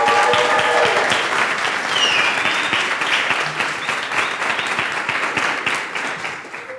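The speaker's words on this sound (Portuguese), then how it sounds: "Uma salva de palmas." An audience at a panel discussion gives a round of applause, a full burst of clapping that gradually thins and softens, with a few faint voices and whistles mixed in.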